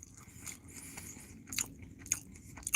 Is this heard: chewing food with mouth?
yes